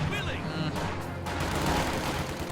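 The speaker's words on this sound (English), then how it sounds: "Snipers continuing to fire on the mortars." Rapid sniper and gunfire volleys crackle in a multiplayer war video game match, dense overlapping shots and booms heard at moderate distance beneath a commentator's voice.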